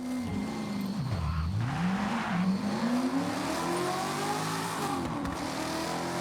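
Video game car engine revving close up, pitch climbing and dipping as the car accelerates, with faint tire noise under a steady roar and no talking.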